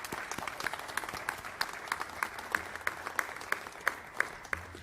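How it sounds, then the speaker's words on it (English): A small symposium audience in a theater applauds, fairly quiet and a little distant, with distinct individual claps standing out in a loose, steady rhythm over the softer patter. "Please, if we could give them a round of applause."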